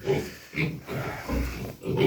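Weaned piglets grunt and snuffle close by in a quick series of short, low grunts, one after another with brief pauses.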